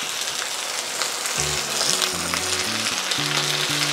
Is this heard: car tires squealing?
no